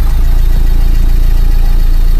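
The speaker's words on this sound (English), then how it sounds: "Start the engine." A Renault Megane MK3 engine runs at a steady idle after starting following a glow plug replacement, with a loud, even low rumble throughout and no talking.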